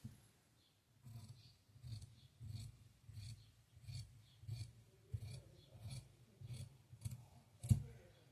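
Scissors cutting blouse fabric for a computer-work blouse, with a quiet run of regular snipping strokes, about one per half second, close and soft, with a brief sharper click near the end.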